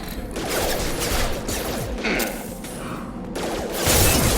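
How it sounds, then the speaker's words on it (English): Dense, loud gunfire from the sci-fi shooter game Mass Effect 2 rattles in continuous overlapping bursts with crashing impacts throughout, and no clear speech. "Shoot them before they take out your shield."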